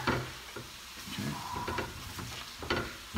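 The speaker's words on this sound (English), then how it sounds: "Mixing the cheese and the egg mommy." A utensil stirring cheese and egg together in a bowl while making breakfast, soft scraping and clinking in an uneven rhythm, quiet and close.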